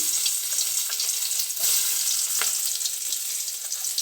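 Steady, dense sizzling of onion frying in hot oil with cumin, with a couple of brief clinks as it's stirred; no voices.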